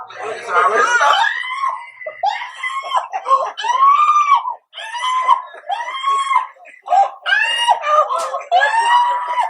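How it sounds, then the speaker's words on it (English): Shrill, repeated screams from a young girl come in several long, wavering bursts with short gaps between them, loud and close throughout. "She's screaming."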